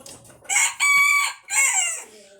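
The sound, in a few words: chickens clucking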